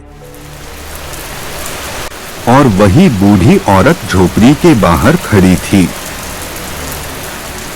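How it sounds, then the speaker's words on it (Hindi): Steady rain pours throughout as an even hiss, with a voice narrating over the middle stretch. "बारिश हो रही थी"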